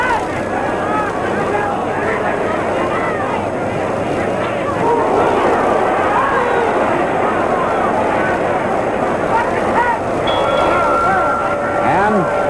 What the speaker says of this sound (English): And the bell, end of round eight.